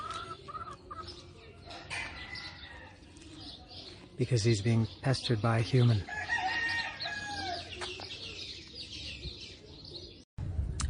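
A rooster crows and chickens cluck on a farm near Cuernavaca, Mexico, the calls rising loud and close in the middle of the stretch while a person talks over them.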